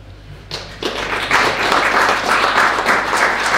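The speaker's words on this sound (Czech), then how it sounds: "Zatleskujeme Adélce, protože ona byla dneska naše jistota" An audience at a handball post-match press conference breaks into steady applause, starting with a few claps and building into sustained, fairly close clapping for several seconds.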